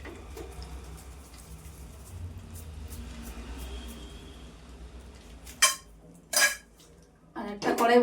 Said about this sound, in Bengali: আর একটা কড়াই বসিয়ে দিলাম।